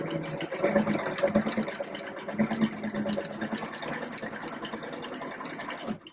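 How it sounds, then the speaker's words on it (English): Sewing machine stitching a long seam on face mask fabric, a steady fast rhythmic whirring and chatter running close and continuous for several seconds before stopping abruptly. "Now we're going to sew the long side about a 1/4 inch, which is right at the foot of your sewing bed."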